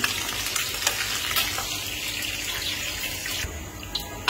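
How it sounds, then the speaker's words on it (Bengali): Snakehead fish frying in hot oil gives a steady, close, dense sizzle and crackle that fills the whole clip without pause, with no voices. "আর মাছটা তো ফ্রাই হচ্ছে এখানে"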